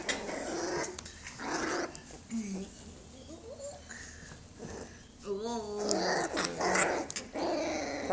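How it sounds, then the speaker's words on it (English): Puppies growl and grumble as they scuffle, with high yips and whines mixed in. A person speaks over the play now and then. "Puppy wrestling."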